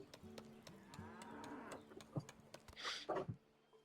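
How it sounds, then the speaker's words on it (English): Cattle moo in a farming scene from the Outlanders 2 video game: a single drawn-out lowing call, moderately close and alone, followed by a couple of short, soft grunting sounds. "We did got different cows this time."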